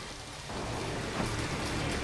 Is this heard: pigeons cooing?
no